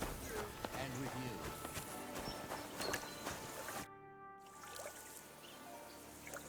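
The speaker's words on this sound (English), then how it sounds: "Lovely horses you have here." Horses clip-clop in the medieval video game Kingdom Come: Deliverance 2, with scattered hoof-like taps and steps under game ambience. The sound cuts out briefly near the end, then resumes quieter.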